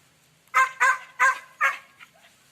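A dog barks four sharp times at close range in quick, even succession, followed by a fainter fifth yelp, with quiet background in between.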